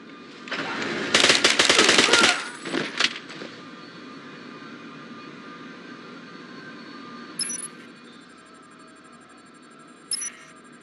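Rapid machine-gun bursts from the James Bond 007: Blood Stone video game crackle loudly for a couple of seconds, then fade into a quiet hum broken by two brief sharp electronic blips.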